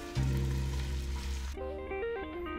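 Diced white onion hitting olive oil in a large pot gives a sizzling, crackling fry for a second and a half. Music follows once the sizzle recedes.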